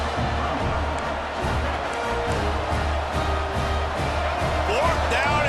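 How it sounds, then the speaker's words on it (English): A stadium crowd in the College Football 26 video game roars steadily on fourth down, a dense, sustained wall of noise running under an announcer's commentary. "Fourth down, and this crowd is making it miserable on this offense."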